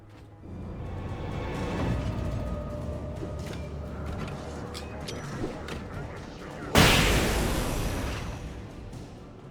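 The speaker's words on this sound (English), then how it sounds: "I can start using some flashbangs" Flashbang grenades and combat blasts in the video game Alan Wake: rumbling bursts of fire build early, then a sudden loud explosive burst hits near the end and decays into a lingering wash of noise.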